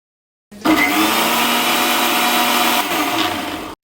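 A kitchen mixer grinder whirs loudly and steadily for about three seconds, blending oil into a thick mayonnaise, starting abruptly and cutting off sharply with a brief dip in pitch partway through.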